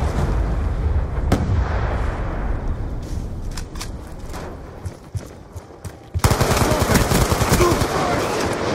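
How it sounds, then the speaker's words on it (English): Heavy continuous rumbling blasts and crackling bursts from a Hellstorm missile strike in Black Ops 2 on the Slums map in Hardpoint mode, loud and dense throughout with a sharp surge near the end and voices underneath. "Hellstorm missile inbound."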